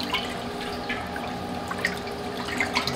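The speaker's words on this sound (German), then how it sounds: "und lösen das Salz im Wasser auf" Hands swishing and stirring salt into water in a mixing bowl while making Neapolitan pizza dough, giving soft, steady liquid sloshing and occasional drip-like splashes close by, with no talking.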